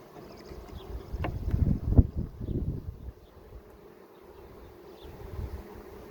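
Honey bees buzz around an open hive, a close, steady low hum with a few soft knocks and brief louder swells, no voices.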